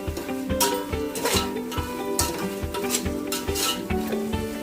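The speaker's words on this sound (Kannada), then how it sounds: "ಇದನ್ನು ಚೆನ್ನಾಗಿ ಹುರ್ಕೋಬೇಕು ಪುದೀನನ." Mint leaves frying with chicken in a pan for a village-style chicken biryani at home, a steady sizzle broken by regular scraping stirs and clinks of a spoon against the pot, close and continuous.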